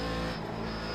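A Corvette C7 Daytona Prototype race car at Mosport in the sim racing game iRacing: a steady, loud engine drone holding near-constant pitch, alone with no talk.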